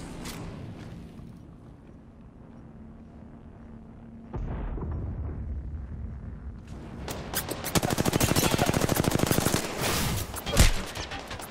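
Gunfire in Apex Legends: a low hum gives way to a heavy blast, then dense rapid automatic fire bursts with sharp cracks, loud and sustained near the end.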